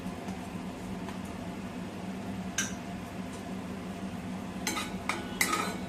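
A spoon scraping and clinking against a pan as turmeric goes into frying golden onions, a few light metallic taps and scrapes over a steady sizzle, close by and without talk.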